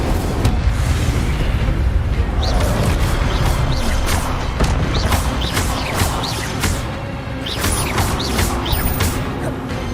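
Incendio fire spell cast in the Hogwarts Legacy video game, a loud sustained roaring blast of flame with crackling bursts and booming rumble that fills the whole stretch.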